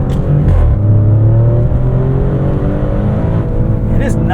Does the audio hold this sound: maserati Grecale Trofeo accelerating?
yes